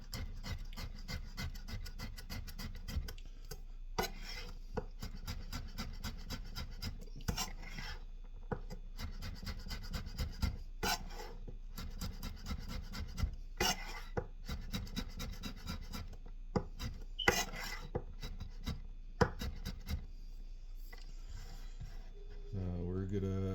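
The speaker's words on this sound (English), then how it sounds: "finely chop all this up just so it spreads nicer" A knife finely chops garlic for homemade broccoli soup, giving repeated quiet scraping and tapping strokes on a board at close range with short pauses between bursts.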